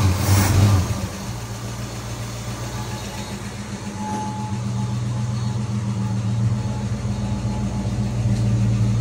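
1964 Ford Fairlane barn find engine running steadily after a points adjustment, a close, even idle hum with a slight rev at the start, no talking over it.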